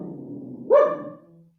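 A dog barks once outside the back door, a single loud bark heard from a short distance after a low whine or growl.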